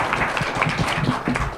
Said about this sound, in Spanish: Un aplauso para don Emilio Elvia.